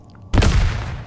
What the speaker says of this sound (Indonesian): Oke, flashbang.